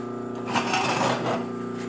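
A double-needle sewing machine, model 20606, hums steadily up close and then runs through foam-backed fabric in a brief, busier burst of stitching before settling back to its idle hum.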